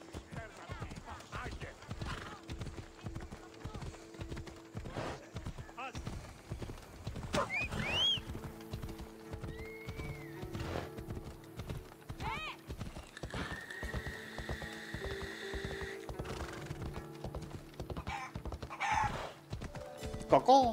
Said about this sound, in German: dafür nehmen wir doch unser Pferd